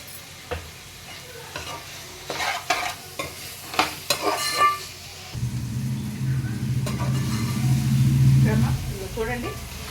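Okra stirred and frying in a pan for a fish and okra tamarind curry: steady close sizzle, louder in the second half, with scraping stir strokes and spoon taps throughout.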